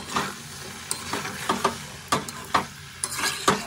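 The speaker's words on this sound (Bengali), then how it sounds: "এবার আমি ভেজে রাখা সমস্ত সবজিগুলো সব দিয়ে দিচ্ছি, দিয়ে একটু এর সাথে খুব ভালো করে মিশিয়ে নেব।" Fried vegetables are stirred into cooked masala in a pan for a Bengali mixed-veg dish. Close, quick scraping strokes come in an irregular rhythm over a soft sizzle, with no voices.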